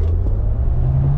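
A Maserati GranCabrio Folgore EV, an 818-horsepower electric convertible, surges forward under hard acceleration, giving a loud, steady low rumble of road and drivetrain noise close up with no break.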